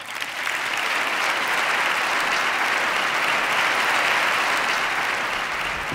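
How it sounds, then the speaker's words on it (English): Audience applause following a keynote address by a Giants executive at a downtown business event, a steady, dense wash of many hands clapping that holds loud and even for the whole stretch without fading. "let's give him another round of applause"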